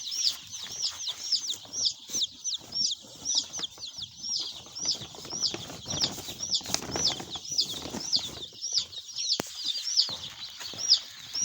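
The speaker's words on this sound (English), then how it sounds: "So yeah, so these are the chicks," Three-day-old baby chicks being raised indoors, a few of them sickly, keep up a dense, steady stream of high, piercing peeps from close by, with faint scuffling and wing flutters underneath and no talking.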